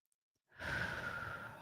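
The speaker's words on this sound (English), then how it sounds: "Take another deep breath." A single slow, deep inhalation rises out of near silence and is drawn in audibly through the nose and mouth, close and soft, during a guided grounding meditation.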